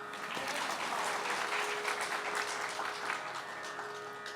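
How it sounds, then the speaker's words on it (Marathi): Audience applauding at a religious discourse in a temple hall, a dense, even wash of clapping from many hands that holds steady for several seconds, moderately distant. "आता टाळ्या वाजवा."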